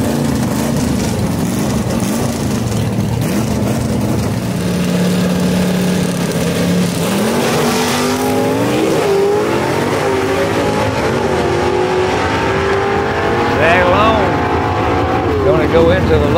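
Gasser drag race cars at Knoxville Dragway rev loudly and launch down the strip, with engine notes climbing and sweeping upward, under a continuous announcer's voice.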